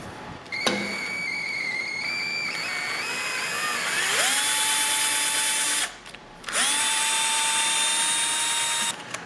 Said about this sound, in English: I'm a lazy person, so I'm going to use a power tool.